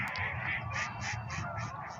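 Ducks on a park pond in Kelowna, British Columbia, give a run of repeated quacks at mid distance, steady and fairly loud over faint outdoor background.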